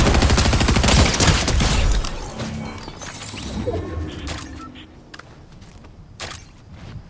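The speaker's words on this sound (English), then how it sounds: "I did just get shot at though" Video game gunfire directed at the player: a dense burst of rapid shots and impacts up front, then scattered single cracks and echoes fading out, with brief talk mixed in.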